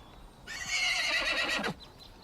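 A horse gives one loud, shrill whinny lasting about a second in a western film scene, clear and fairly close, with no talk over it.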